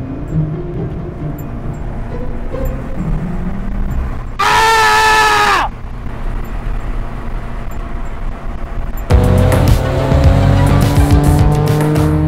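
A Toyota AE86 Trueno engine drones and roars at high revs above 5000 rpm, with a sharp screeching burst midway and a louder, harsher rev surge near the end.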